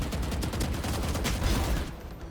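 Gunfire in the video game Valorant, a dense, loud burst of rapid shots layered into a sustained barrage that cuts off abruptly near the end, leaving a faint tail.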